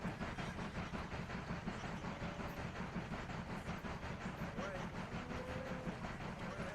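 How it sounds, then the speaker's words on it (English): A steam passenger train runs steadily through a Mashinky railway-building game world, a continuous rumbling clatter with faint whistle-like tones, sounding close and even throughout. "Got our little passenger train steaming through there."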